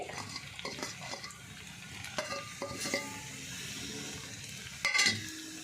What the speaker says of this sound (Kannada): ಲೋ ಫ್ಲೇಮಲ್ಲಿ ಮಿಕ್ಸ್ ಮಾಡ್ಕೊಳ್ಳಿ ಚೆನ್ನಾಗೆ.